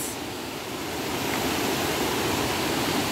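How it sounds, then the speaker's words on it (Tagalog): Rushing water roars continuously, a loud, steady wash of surf or churning waves with no voices. "Malakas lang talaga yung alon."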